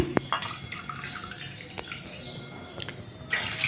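Water trickles and drips into a container of raw mangoes for chutney, with scattered small splashes and clinks over a quiet background; no speech.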